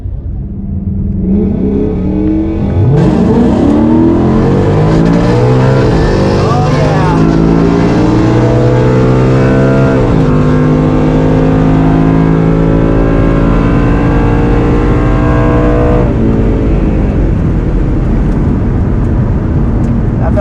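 Drag race car at an NMRA Spring Break Shootout making a full 11-second quarter-mile pass, a loud close engine howl rising in pitch through several gear shifts, with speech over it.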